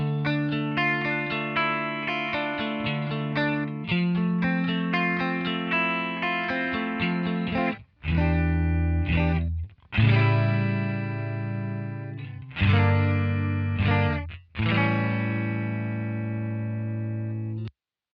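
An electric guitar plays dry with no effects, panned to the right. Sustained chords ring alone, broken by a few short pauses and re-struck notes.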